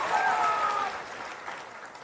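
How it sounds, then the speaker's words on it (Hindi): A crowd at a political rally claps loudly in a dense, continuous patter that fades somewhat after the first second. A few high tones ring faintly near the start. "आप देखिए लोग कितना जोर से ताली बजा रहा है"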